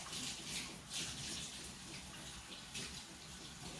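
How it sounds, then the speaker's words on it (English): Hands being washed under a running kitchen tap to rinse off flour: a steady hiss of flowing water with soft splashing changes as the hands move, close and alone. "let me wash my hands,"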